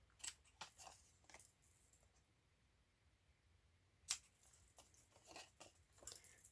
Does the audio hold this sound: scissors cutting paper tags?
yes